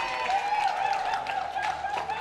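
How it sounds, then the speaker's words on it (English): Applause for a drawn shot at a lawn bowls state pennant championship: a short burst of scattered hand clapping from a modest crowd, steady and fairly close throughout. "Give him a clap."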